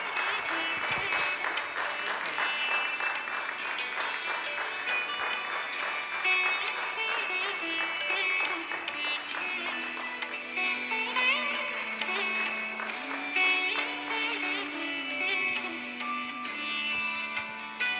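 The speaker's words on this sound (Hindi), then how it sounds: "जोरदार तालियां" Sustained audience applause for a prize winner at a singing contest, a steady wash of clapping over a tonal background for the whole stretch.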